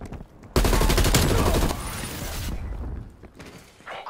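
A hostile sentry turret opens fire in Call of Duty Black Ops Cold War, a sudden loud sustained burst of rapid gunfire lasting over a second, then a lingering rattling tail and scattered shots fading into quieter game noise.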